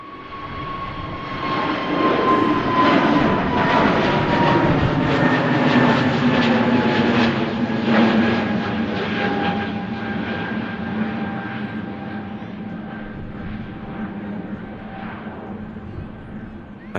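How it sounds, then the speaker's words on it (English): An EasyJet Airbus A320neo jet takes off from runway 23 right at Manchester Airport and climbs steeply, its loud, steady engine roar sweeping past and slowly fading as it gains height. "Nice steep climb there from the EasyJet A320 Neo, parting there on 23 right"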